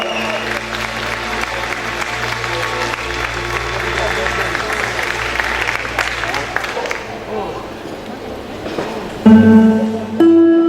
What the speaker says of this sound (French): que vous pouvez applaudir très fort